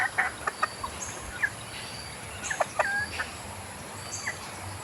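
Chickens and roosters clucking on a farm at feeding time, several birds giving short scattered clucks and calls at moderate distance, with no talk over them.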